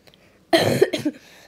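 A single close cough burst, short and harsh, followed by a quick throat-clearing sound, with near silence before and after.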